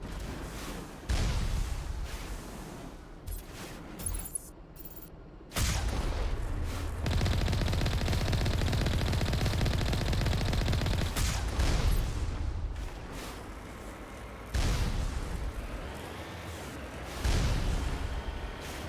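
Gunfire from a weapon in Mass Effect, loud repeated bursts of automatic shots with short pauses between volleys, close and dominant throughout, no talking.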